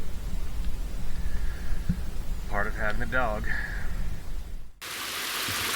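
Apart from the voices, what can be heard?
rain falling on water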